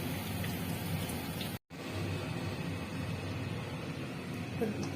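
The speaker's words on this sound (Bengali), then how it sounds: "এবার বাকি কটাকে ভেজে নিয়ে ফিরে আসবো" Pieces of bhetki fish fry in hot oil, a dense, even crackling hiss that fills the scene, broken by a brief silent gap before continuing unchanged.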